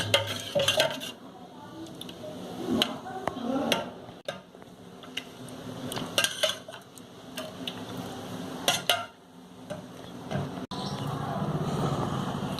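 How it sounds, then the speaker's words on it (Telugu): A spoon stirs milk with lemon juice in a cooking pot, giving intermittent metallic clinks and scrapes against the pot's sides over a low background hum, close by and with no talking. "ఇందులో వేసి పాలని కలుపుతూ ఉండాలి."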